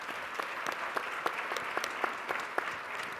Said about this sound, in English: So please give my panelists a round of applause.